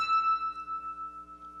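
A single E key struck on an acoustic piano with the dampers down, a clear bright tone that sustains and slowly fades over under two seconds, ringing alone.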